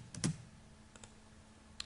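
Keys pressed on a computer keyboard while working in AutoCAD, a few quiet separate clicks with one firmer keystroke near the start and another soft click near the end, no talking.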